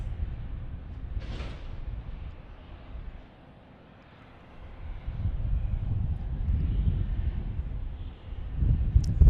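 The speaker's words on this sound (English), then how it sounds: "Looks like a Cessna Latitude, I think is a 680 model." A Cessna Citation Latitude 680 business jet at Dallas Love Field gives off a distant, low engine rumble that dips briefly and then swells into a steady, louder roar.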